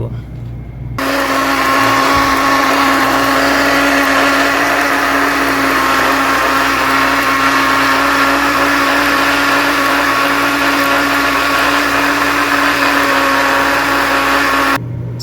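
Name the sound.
blender grinding onion, tomato and garlic into paste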